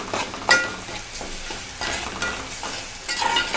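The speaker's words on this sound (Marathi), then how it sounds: "हे मसाले चांगले तेलात असे फ्राय करायचे." Spices including garam masala fry in oil with a steady sizzle while a spoon stirs them, giving soft scraping strokes close by with no voices.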